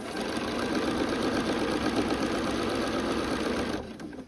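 A sewing machine runs in one steady, continuous whir as it stitches bias binding fabric along a curve with a quarter-inch seam allowance, then stops near the end of the clip.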